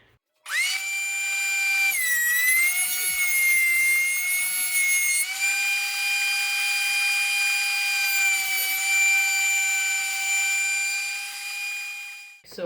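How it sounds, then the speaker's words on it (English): A thickness planer runs through 1x4 pine boards, a loud steady high-pitched machine whine with strong harmonic tones that shift in pitch as a board feeds in, holding for about twelve seconds before winding down. "So I just finished planing all the 1x4x5s."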